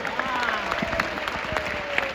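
Steady applause from a crowd at a Hindu religious discourse in India, dense and continuous throughout, with some voices mixed in.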